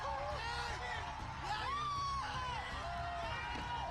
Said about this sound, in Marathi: हा जल्लोष आहे देशातील तरुणाईच्या विजयाचा